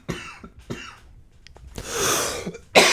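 A man coughs several times in short bursts, close and fairly loud, with breathy pauses between and a final harsh throat-clearing cough at the end.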